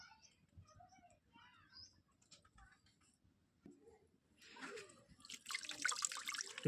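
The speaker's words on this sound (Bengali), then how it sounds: "জল দিয়ে একটু ধোয়া হচ্ছে, ধুয়ে তারপরে এটা রেডি করা হবে।" Water splashes and pours close by as a village cook washes a plucked native chicken, starting faint and growing into loud running, splashing water at the end, with birds chirping in the background.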